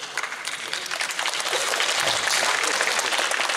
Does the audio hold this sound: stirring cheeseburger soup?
no